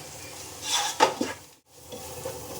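Beef biryani masala with onions stirred in a pot, a few scraping, sizzling strokes that rise and fall, with a short pause before a faint sizzle resumes.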